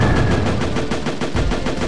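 Rapid machine-gun fire in the arcade shooter Heavy Weapon Deluxe: loud, evenly spaced shots in a fast, unbroken stream over a low, rumbling background.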